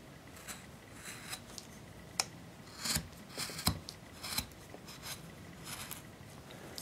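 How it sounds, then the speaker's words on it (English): A chisel scrapes and cleans out a cut in a wooden Snoring Moon carving, giving a series of short, quiet scraping and shaving strokes at an uneven pace with brief pauses between them. "Chisel in there to kind of help clean that out of there."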